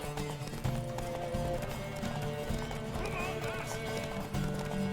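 Witcher 3 horse, in-game on Nintendo Switch, with steady clip-clop hoofbeats and a neighing whinny over a continuous music and effects bed.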